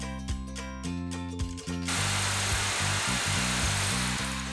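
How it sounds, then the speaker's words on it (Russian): A power drill bores into a wall to set anchors for fastening a staircase balustrade post, first whirring with several pitch changes and stutters, then settling into a loud, steady grinding as the bit cuts through the masonry. "Просверлил стену,"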